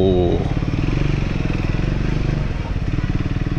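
A Triumph Scrambler 400x motorcycle engine throbs steadily and loudly while riding through a gully, a continuous pulsing drone throughout with no talk.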